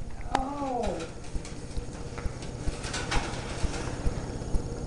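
A pet bird given as a Valentine's gift makes a short, curving call near the start amid household noise and people talking, then scattered soft sounds follow beneath the voices.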